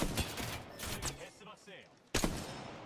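Gunfire in a video game: several sharp shots, some in rapid bursts, ring out through the stretch, then a short quiet gap before another loud burst at the end; voices are faintly present.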